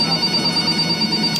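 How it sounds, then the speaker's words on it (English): A telephone ringing with a steady electronic ring tone, loud and close, heard alone for a short moment. "Somebody get that phone."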